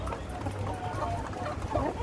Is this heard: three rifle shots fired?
no